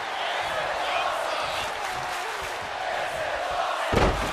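A capacity crowd roars steadily in a pavilion in Providence, Rhode Island, during a gauntlet match in the wrestling video game WWE 2K24, a dense wash of cheering under a commentator's voice, with a thud near the end.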